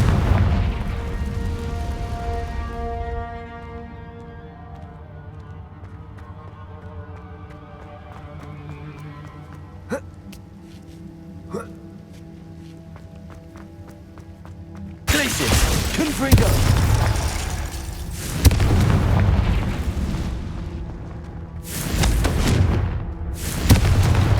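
A Confringo blasting spell goes off in Hogwarts Legacy on PS5, a loud broadband burst about halfway through that gives way to rumbling, crackling impacts and sharp bangs over a layer of tonal game music.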